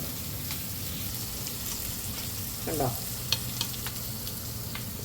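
Tomatoes frying in a pan, stirred: a steady sizzle runs throughout with a short scraping stir partway through and a few sharp clinks of the utensil, close by, with no talking.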